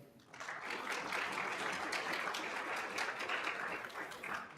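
Audience applause fills an honor society induction ceremony, a steady wash of clapping from a crowd that swells quickly and holds at moderate loudness before easing slightly at the end.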